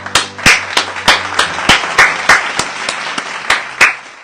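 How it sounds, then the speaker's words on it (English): Applause from a small group at a reality-show event, with about a dozen loud, separate claps spaced irregularly over a faint background hum. "She deserves a big round of applause."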